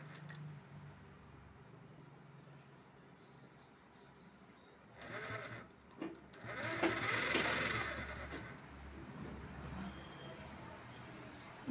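A sewing machine stitching a 40-inch blouse with a pa neck runs in short bursts, a moderately loud mechanical whir that rises mid-clip over a quiet room hum, with no clear talking.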